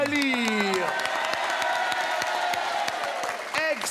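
A French television variety show audience applauds loudly and steadily, with whoops rising over the clapping and voices briefly audible at the start.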